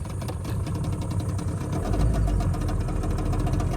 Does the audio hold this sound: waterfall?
no